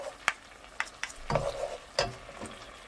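Anchovies stir-fried in olive oil in a pan give off a quiet sizzle, broken by a few sharp scrapes and taps of a utensil stirring the pan.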